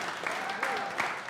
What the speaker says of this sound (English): And you can clap for yourself.